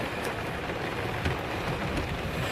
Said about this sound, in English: Lunch break in the rain.